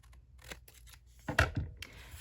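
Scissors snip through the corners of a paper pocket for a handmade mini album, several quiet cuts followed by two louder, sharper snips close by near the end, with no talking.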